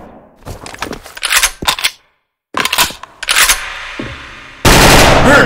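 Several loud, close bursts of Thunder FN FAL rifle fire in a video game, separated by silent gaps and ending in a dense, sustained blast.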